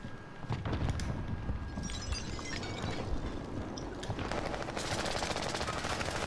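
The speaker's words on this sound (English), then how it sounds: "A lot of shooting to our left." Continuous video game gunfire, rapid automatic bursts and scattered shots mixed into loud, dense battle noise, some bursts nearby and others more distant, with no pause throughout.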